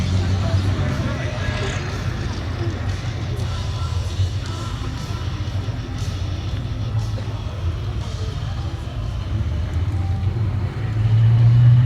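A Stormer AFV armoured vehicle drives past at a Tankfest display, its engine a deep continuous rumble with a low droning growl that swells near the end, while a commentator talks over it on a public address system.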